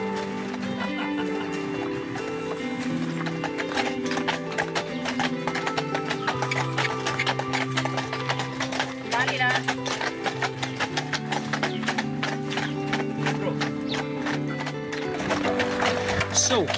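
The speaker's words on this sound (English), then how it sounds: "How about a ride through the vineyards by a horse-drawn carriage?" Horse-drawn carriage rolling through vineyards and olive groves, steady clip-clop of hooves running throughout under a dense layer of music, with occasional voices.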